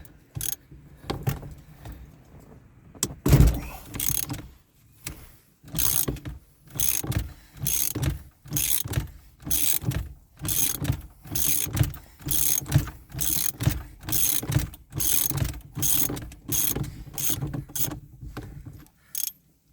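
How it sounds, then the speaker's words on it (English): A ratchet with a 21mm socket works the steering wheel nut on a 1990-1992 Camaro, producing a long run of evenly spaced, close clicking strokes after a few scattered knocks. "Alright, so I got a 21mm socket. We're going to take off this bolt or nut."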